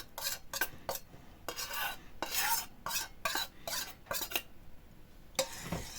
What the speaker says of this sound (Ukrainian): І перемішуємо до повного розчинення желатину.